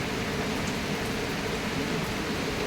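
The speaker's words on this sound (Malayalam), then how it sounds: "മഴ പെയ്യണ ശബ്ദമൊക്കെ കേൾക്കുന്നുണ്ടോ ഇങ്ങോട്ട് ഇപ്പം മഴയാണേ" Steady rain falls outside as a dense, even hiss that holds at one level throughout, with no voices over it.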